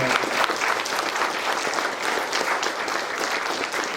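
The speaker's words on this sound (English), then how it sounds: "Let's give them another round of applause" A crowd applauds steadily throughout a mayor's State of the City address, a dense, sustained wash of clapping without a break.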